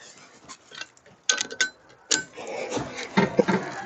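Wheel nuts on a car are tightened in a cross pattern after a brake disc change, giving metallic ratcheting clicks and clanks in short irregular bursts, close and moderately loud, with no voices.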